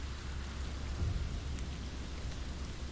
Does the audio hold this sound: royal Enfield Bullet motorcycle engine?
no